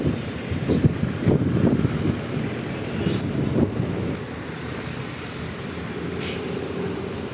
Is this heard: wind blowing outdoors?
yes